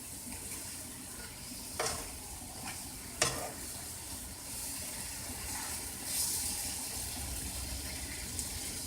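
Bananas fry and caramelize in a pan with a steady broadband sizzle, broken by a few sharp spatula scrapes and taps as the soft pieces are flipped, close and moderately loud.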